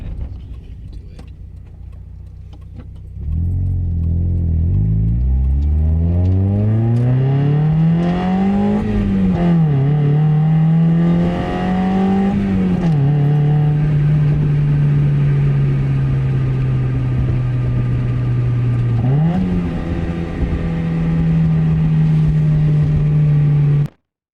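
A Mazda Miata convertible pulls away and drives on, its engine rising through the gears with audible shifts, then holding a steady, loud cruising drone close by until it cuts off abruptly.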